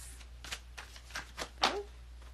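Tarot cards are shuffled close by in a handful of quick, soft riffling flicks over a faint steady hum.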